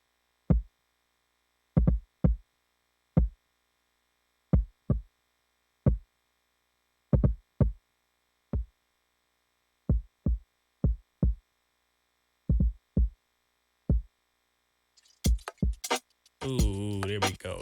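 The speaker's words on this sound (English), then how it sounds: "Throw a little bit of reverb on your kick." Punchy electronic kick drum hits with reverb added play in a loose rhythmic pattern, each thump short and deep with a short tail, followed by a brief burst of processed noise at the end.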